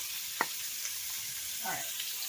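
Chopped onion and red pepper frying in a pan, a steady soft sizzle throughout with a couple of brief stirring clinks, close and moderately quiet, no talk.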